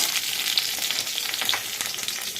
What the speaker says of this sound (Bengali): কালো জিরে ফোড়ন দিয়ে ডাটা আর আলুটা ছেড়েছি এই যে এটা একটু ভেজে নিচ্ছি